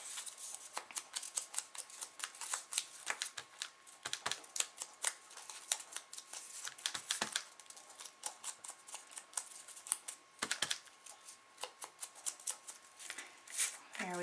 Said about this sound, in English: take an old grungy sponge and do some inking around the edges